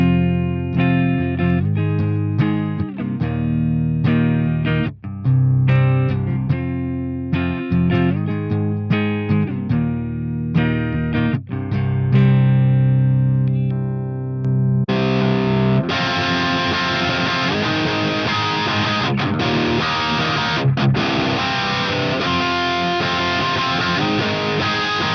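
Electric guitar through a Mooer Preamp Model X amp-modelling pedal plays clean, bright, glassy Fender Twin-style chords and picked notes, then switches to a heavily distorted, high-gain crunchy Dual Rectifier-style riff for the rest.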